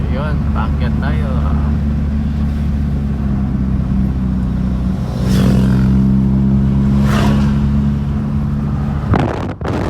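Toyota Corolla GLi with a 4A-FE engine at normal operating temperature, climbing uphill on a mountain road: a steady, loud engine drone that rises in revs midway, with brief talk over it and a wind rumble on the microphone.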